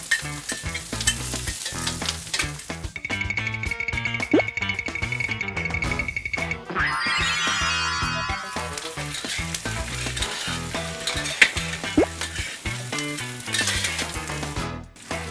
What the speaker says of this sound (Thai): ตอนนี้เราก็จะให้ไฟอ่อน ๆ เนี่ยค่อยๆ ผัดให้มันนุ่ม ผัดไปเรื่อยๆ ก่อนให้มันหอมด้วย